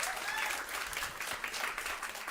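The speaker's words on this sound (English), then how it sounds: "Please welcome her with a warm round of applause" Audience applause at an event for chefs, a brief, dense burst of clapping that stays fairly even and fills the whole moment without speech.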